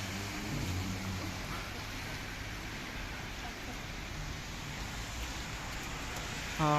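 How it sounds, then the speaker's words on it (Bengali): Rain falling in Manchester, a steady soft hiss of rainfall on surfaces mixed with wind, continuous and moderately faint, with a brief tonal sound at the very end. "লন্ডনের ম্যানচেস্টার সিটিতে অনেক বৃষ্টি হইতেছে অনেক বৃষ্টি"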